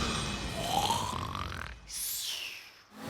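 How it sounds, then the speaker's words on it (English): A cartoonish voice from the digger character makes two drawn-out snoring sounds, a rising rattly inhale then a whistling exhale, close and fairly loud. "you're just snoring"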